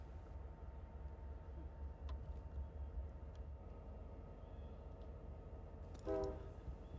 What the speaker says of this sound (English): B40-8W locos, number 545 and 530, return with a rake of hoppers to be added to the front of their train